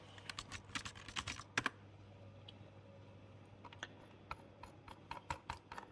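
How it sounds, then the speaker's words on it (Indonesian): Typing a command on a computer keyboard, quick irregular clicking keystrokes in short bursts with small pauses, close and fairly quiet over a low steady hum. "coba kita akan mulai dengan mengetik netstat di terminal"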